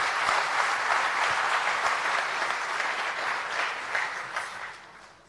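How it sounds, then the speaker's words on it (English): A large audience at a campus conversation event claps in a dense, sustained round of applause that holds steady, then gradually fades toward the end, with no voices over it. "Round of applause, ladies."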